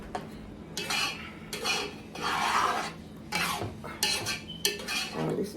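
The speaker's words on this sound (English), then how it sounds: "And we want this egusi to fry properly." Egusi frying in a pot while being stirred, a utensil scraping and clinking against the pot in short repeated strokes with a soft sizzle beneath, close and fairly quiet.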